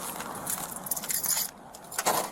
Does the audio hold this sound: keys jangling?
yes